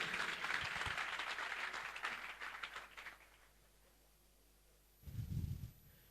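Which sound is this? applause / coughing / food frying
applause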